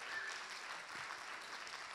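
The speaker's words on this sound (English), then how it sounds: "give them a round of applause, too." Business competition audience giving the judges a round of applause, steady faint clapping heard from a distance throughout.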